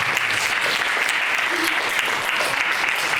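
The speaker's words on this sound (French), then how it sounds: "Sous vos applaudissements" Studio audience breaks into sustained applause, a dense wash of clapping heard up close that carries steadily for a few seconds.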